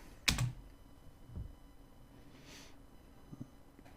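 A few sparse keystrokes tap on a computer keyboard, one sharp click followed by softer, scattered taps in a quiet room, with faint breathing and no speech.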